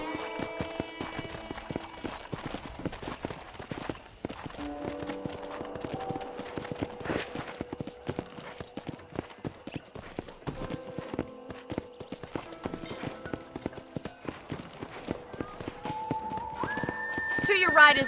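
Steady rhythmic clip-clop of horse hooves trotting close by in Red Dead Redemption, with soft game-like tones and chimes layered over it.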